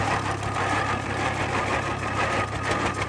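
An International Titan tractor engine, built from 1915, runs steadily nearby, a loud, continuous chugging rumble with a rough, knocking texture throughout.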